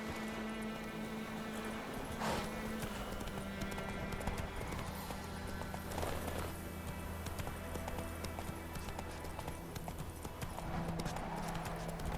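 Roach the horse trotting in The Witcher 3, steady clip-clop of hooves under a droning game soundtrack, faint and continuous throughout.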